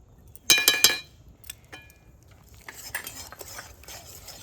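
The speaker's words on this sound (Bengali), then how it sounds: "এইভাবে ভালো করে মিশিয়ে নেব সব কিছু ভালো করে মিশিয়ে নিয়েছি" A spoon stirs jaggery into a kheer mixture in a metal pot, opening with a quick burst of three or four bright clinks, then softer scraping and faint clatter.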